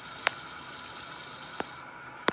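A bathroom tap runs as a face is washed, a moderate steady hiss of flowing water with three sharp splashes or taps spaced through it, no voices.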